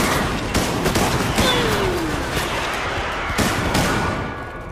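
Heavy gunfire from a firefight in Resident Evil: Operation Raccoon City, with dense overlapping shots and bursts running continuously at close range, loud throughout and fading slightly at the end.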